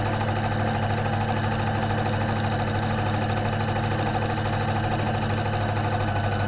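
A sewing machine runs at a short 1.0 stitch length down the center of chenille tape, a steady continuous mechanical hum and rapid whir held without pause, fairly loud and close with no talking.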